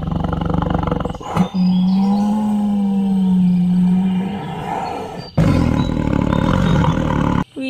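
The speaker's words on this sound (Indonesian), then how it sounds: "Wahai, yang ini ada hewan harimau teman-teman." A tiger gives a long, loud, sustained roar up close, followed after a short break by a second rough, growling roar.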